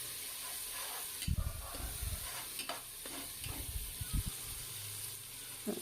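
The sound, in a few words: tomatoes sautéing in a pot for biryani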